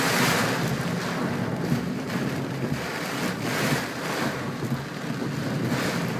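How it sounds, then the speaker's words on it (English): Storm water rushing down a flooded residential road during a heavy rainstorm, a steady broadband wash and roar that stays loud and continuous throughout, with no talking. "Wow, yup, water's just rushing down the road."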